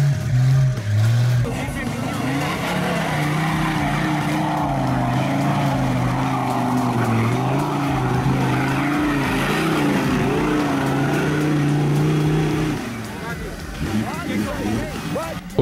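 An off-road Ford F-75 jeep engine drones loud and steady as it is pulled out backwards on a muddy trail, its pitch rising and falling slightly before easing off, with someone talking over it.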